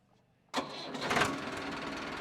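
An Arjun tractor in good condition, parked at a farmer's home, cranks and starts after a quiet moment, then settles into a steady close, loud diesel running note with a slight swell.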